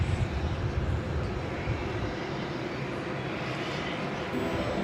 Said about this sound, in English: So that Dreamliner from LAX, 2-hour and 22-minute flight.